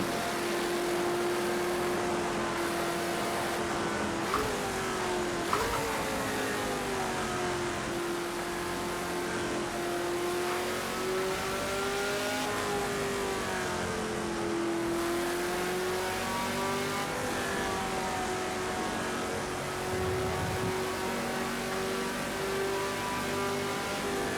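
Race cars in Project Cars 2 drive in the rain, with a steady, loud engine drone that holds a sustained pitch and swells with throttle changes and gear shifts throughout, with no talking.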